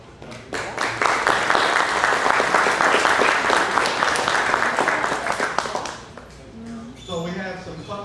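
Audience applause at an evening speaker presentation, dense clapping that swells quickly and holds steady for several seconds before thinning out, followed by a voice speaking near the end.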